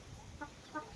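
Chickens, the kind kept with ducks at a rural Thai-Lao home, give two short clucks about a third of a second apart over a low background hum.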